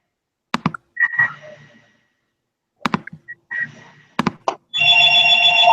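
A telephone breaks in during an online meeting, first with scattered clicks and short chirping tones, then a loud, sustained electronic ring in the last second, with no talk over it.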